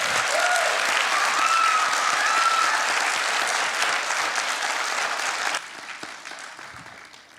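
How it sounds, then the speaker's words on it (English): An audience at a citywide Pride gathering gives a steady, full round of applause that runs strongly for several seconds, then thins and fades out toward the end. "can we give a round of applause for Pan?"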